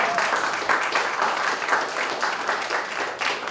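Residents at a town hall community meeting give a steady round of applause, dense and fairly close, with no talk over it for its few seconds.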